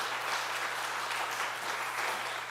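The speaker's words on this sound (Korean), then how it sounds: "예, 박수 한번 해주세요." A church congregation applauds during a Sunday afternoon service, a dense, even wash of clapping from many hands that holds steady throughout, fairly loud with no voices over it.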